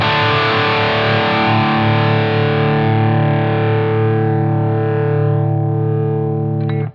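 Sustained distorted electric guitar chords run through a Line 6 Helix ADT doubler set to extreme modulation, ringing loud and thick for about seven seconds before cutting off abruptly with a brief final scrape.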